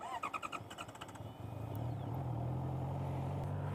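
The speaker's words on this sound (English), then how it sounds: "I'll quickly take you guys on a ride just around the block and let you guys hear this bike" A 2022 Honda CB650R motorcycle cranks with a rapid pulsing starter chatter, then catches and settles into a steady, close, low engine drone.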